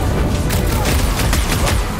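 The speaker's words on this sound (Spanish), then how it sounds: "¡Una buena bombota!" Explosions boom in the Guardians of the Galaxy video game as bombs are thrown at enemies, a dense, loud rumble of blasts lasting about two seconds with no clear pause.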